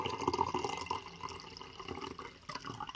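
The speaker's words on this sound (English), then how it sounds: "Oh, I'm gonna pour out the rest of this." Leftover tea is poured out, a continuous splashing and trickling of liquid with small drips, fairly close and steady, with no talk.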